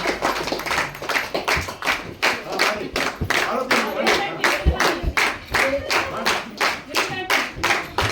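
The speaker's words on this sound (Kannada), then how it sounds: "ಮೇಲೆ ಮೇಲೆ ತಟ್ಟಿ, ಮೇಲೆ ಮೇಲೆ ತಟ್ಟಿ. ಎಸ್, ಬರ್ಲಿ, ಜೋರಾದ ಚಪ್ಪಾಳೆ." Students at an ashram clap their hands in a steady, fast rhythm of sharp, even claps, loud and close, as part of a group game, with a faint voice underneath.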